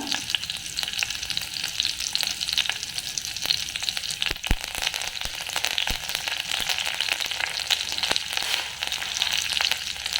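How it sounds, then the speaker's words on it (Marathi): Green chilies, garlic and fresh curry leaves fry in tempering oil for a Maharashtrian buttermilk kadhi, a continuous close crackling sizzle with occasional sharp pops and stirring, no voices. "थोडस थोडंसं परतून घेतो"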